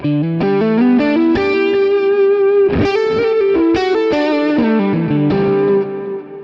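Electric guitar through a Klon overdrive pedal on a Quad Cortex plays a run of chords and single notes with a thick, saturated overdriven tone, loud and continuous.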